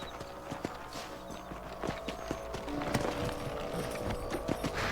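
Horse hooves clip-clop steadily on the ground in the Red Dead Redemption video game, a brisk rhythmic trot of close, sharp knocks that continues throughout with no talking.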